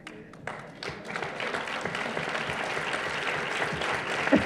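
Audience applause at a book fair talk in Guadalajara, a broad steady wash of clapping from a crowd that starts after a moment of quiet and holds at an even level throughout.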